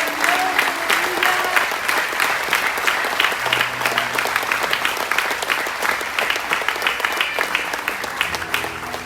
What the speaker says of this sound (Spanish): fuerte las palmas al Señor